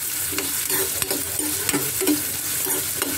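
Onions frying in hot oil in a pan for an eggplant curry, a steady loud sizzle with a spoon scraping and stirring at a regular rhythm, close up and without talk.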